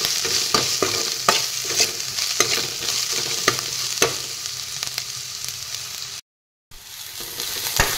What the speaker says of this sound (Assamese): এইখিনিও অলপ টাইম এনেদৰে ভাজিম